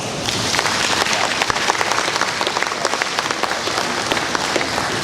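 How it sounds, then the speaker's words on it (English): Steady applause from a luncheon audience fills the room, dense clapping sustained at an even level throughout, with no talk over it. "Everyone give yourself a round of applause."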